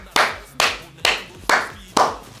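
Five slow, evenly spaced hand claps ring out close by in a home gaming room, each one a sharp, bright smack with a short decay.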